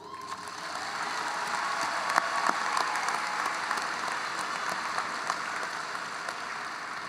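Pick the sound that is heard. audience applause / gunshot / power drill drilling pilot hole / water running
audience applause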